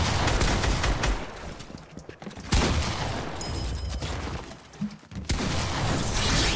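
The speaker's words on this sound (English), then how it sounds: "I'm shooting him from here." Gunfire in the video game Fortnite comes in dense, loud, overlapping volleys of rapid shots that break off briefly twice and then resume, all close and with no talk.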